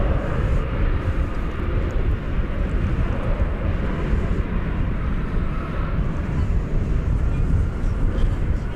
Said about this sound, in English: Just your random American Airlines arrival there on the east side